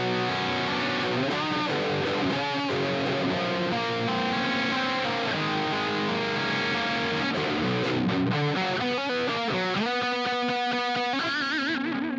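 A high-gain electric guitar runs through a Helix amp model and a modern 4x12 cabinet, giving a tight, distorted rhythm tone. It plays continuous driven chords and chugging riffs at moderate level with no voices.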